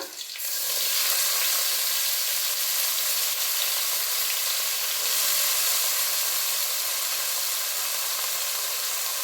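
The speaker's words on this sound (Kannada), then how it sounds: "ಹಸಿ ಬಟಾಣಿ ಆಗಿರೋದ್ರಿಂದ ಎಣ್ಣೆನಲ್ಲಿ ಫ್ರೈ ಮಾಡ್ತಾನೆ ಬೆಂದೋಗುತ್ತೆ" Fresh green peas and finely chopped green chillies fry in hot oil, giving a steady, loud, broadband sizzle and hiss that holds evenly throughout with no talking.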